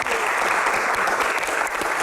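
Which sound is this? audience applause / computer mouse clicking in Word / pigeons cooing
audience applause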